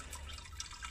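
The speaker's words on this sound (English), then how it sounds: "now we are going to sparge with, I think it's 76 degree water I've got" Hot 76-degree sparge water pours over a bag of mashed grains during a chocolate stout brew day, a brief continuous splashing and trickling of liquid.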